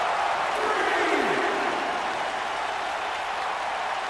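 Wrestling arena crowd in the WWE 2K19 video game, a constant broad cheer and applause wash behind a match, with a commentator's voice faintly underneath.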